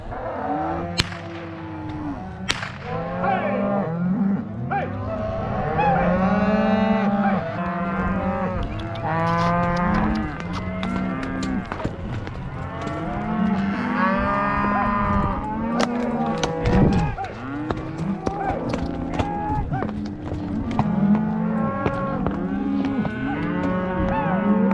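Cattle on a Montana drive low and bellow over and over, many overlapping moos rising and falling near and far on an open hillside, with an occasional sharp crack.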